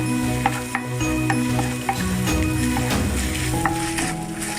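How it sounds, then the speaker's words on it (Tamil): Ginger garlic paste sautés in a pan with a steady sizzle, broken by scattered scraping and stirring clicks; a faint tonal hum runs underneath. "இஞ்சி பூண்டு விழுது நல்லா வதங்கிடுச்சு"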